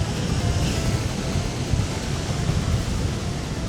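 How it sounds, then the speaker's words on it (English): Huge ocean surf heard from the shore, a loud steady roar of crashing waves with no pause, dense and close throughout. "Waves are huge! The sound is just so loud!"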